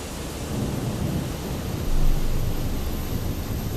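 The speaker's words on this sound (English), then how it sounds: "The thunder and lightning as well" Thunder rumbling in Microsoft Flight Simulator 2024 during a stormy Atlanta flight in a Delta A321, a steady low roar with rain-like hiss that swells briefly midway, with no voices.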